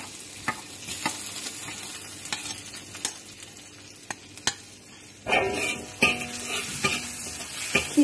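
Ginger fries in melted butter and oil in a pot, a soft steady sizzle punctuated by light utensil taps, swelling into a louder, brighter crackle after a few seconds when the ginger hits the fat.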